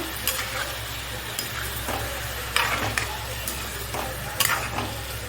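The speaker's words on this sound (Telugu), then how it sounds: "ఇదిగోండి రొయ్యలు అయితే వేసేసుకున్నాను వీటిని మనం నూనెలోనే వేగించేసుకుందాము" Prawns frying in oil with turmeric in a pan, a steady close sizzle with several bursts of scraping stirring and crackle, no talking.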